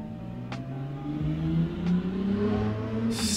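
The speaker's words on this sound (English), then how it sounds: "that person's car is loud" A loud car drives by outside, its engine revving and droning steadily for a few seconds as it passes, heard alone with no talking.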